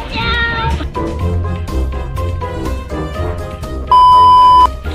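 An electronic toy cat gives two bright, beeping meows, one at the start and one near the end, close and loud over steady background music.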